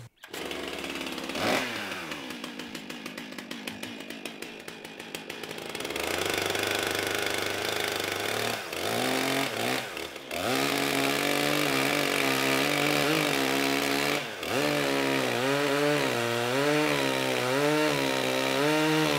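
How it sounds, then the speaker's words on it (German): A chainsaw carving out a wooden trough for a fountain, the engine revving and bogging as it bites into the wood, loud and close with changing pitch throughout. "soweit das mit der Motorsäge halt möglich ist."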